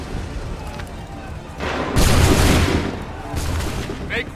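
Musket volleys in Assassin's Creed III, with dense overlapping gunfire bursts crashing out loud and near, then a second ragged volley, under shouted battlefield commands.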